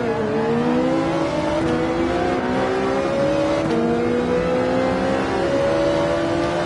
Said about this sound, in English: we've got the two Ferraris racing here